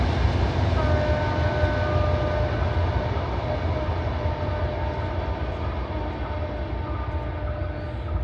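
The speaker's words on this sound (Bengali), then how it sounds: "ট্রেন যাচ্ছে দেখা যায়" A train crosses the Jamuna railway bridge in Sirajganj, Bangladesh, producing a loud, steady, close rumble that fills the whole stretch without pause, with faint tonal whines running through it.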